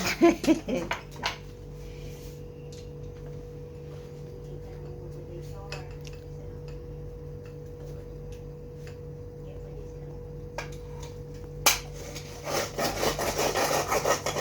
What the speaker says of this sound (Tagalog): nagkukuskus si Bunso guys